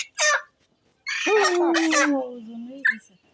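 A Sonali chicken on a farm gives a short squawk, then a longer drawn-out cluck-like call with a brief final note; fairly close, with no talking.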